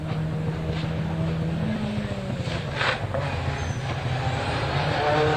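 An Audi race car at a hillclimb event, engine roaring steadily with revving rises and falls, loud and close throughout.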